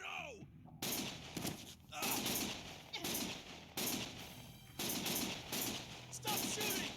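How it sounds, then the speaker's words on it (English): Bursts of automatic gunfire in Lost Judgment, loud sustained volleys of several seconds each, separated by short pauses, with a faint voice early on. "Stop shooting!"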